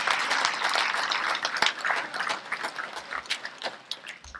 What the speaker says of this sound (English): a round of applause for Coles County,